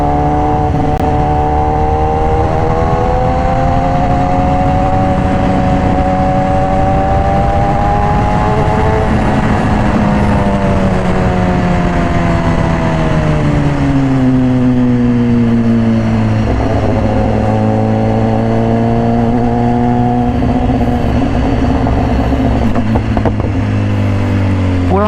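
A red 2018 BMW S1000RR with an Austin Racing exhaust is heard up close while riding. The loud engine note swells and drops, easing down through the gears before settling into a lower steady rumble.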